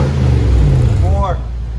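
A Lexus GX470 V8 with an aftermarket exhaust revs up, its deep rumble loud and close, while a person speaks briefly over it.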